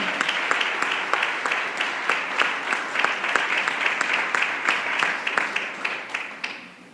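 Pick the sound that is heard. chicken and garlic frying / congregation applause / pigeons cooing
congregation applause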